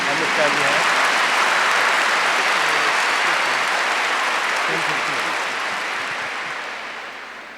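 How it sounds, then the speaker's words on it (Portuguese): A church congregation claps at a bilingual religious talk: dense, sustained applause that stays strong for several seconds, then gradually fades out toward the end. "Give the Lord a big clap for that."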